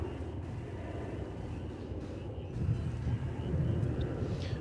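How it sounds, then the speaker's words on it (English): An Embraer 170 regional airliner produces a low, steady jet rumble at an airport, moderately distant, swelling slightly toward the end with some wind buffeting and no voices. "Another Embraer that's an Embraer 170, not a 175."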